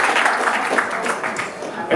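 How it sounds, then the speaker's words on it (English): Audience at a school headmaster's social breaks into a round of applause, steady dense clapping filling the room for a couple of seconds, with a voice mixed in. "Round of applause."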